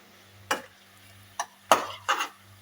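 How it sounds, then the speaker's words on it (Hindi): Onion with garlic-ginger paste frying in a pan for samosa filling, heard as four short bursts of stirring and scraping with a soft sizzle beneath, close and moderately loud. "1 मिनट तक इसको हम फ्राई करेंगे ताकि इसका कच्चापन जो है ना वो ख़त्म हो जाए"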